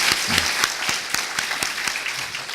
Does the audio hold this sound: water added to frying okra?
no